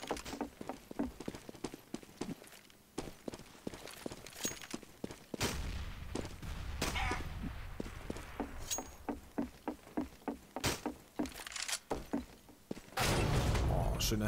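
AWP sniper rifle fire and other gunshots in a Counter-Strike match on de_inferno, a rapid series of sharp cracks and thumps over a continuous game backdrop, with heavier bursts near the end.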